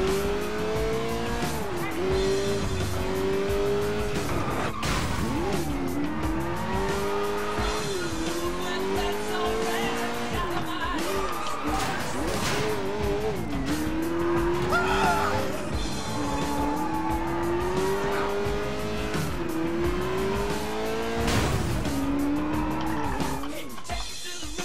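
A car in the video game Sleeping Dogs drives hard with a revving engine that rises and falls and repeated loud tire squeals and skids over about twenty-five seconds, with occasional impacts.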